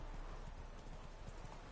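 Hoofbeats of Geralt's horse Roach galloping in the game The Witcher 3, a quick rhythmic clip-clop over a dense, faint wash of background noise.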